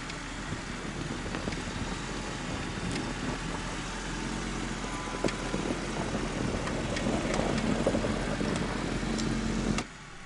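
A four-wheel-drive Jeep on rear tire chains with open differentials idles in first gear up a snowy hill, giving a continuous low engine drone with rattling and crunching layered over it, then cutting off at the end.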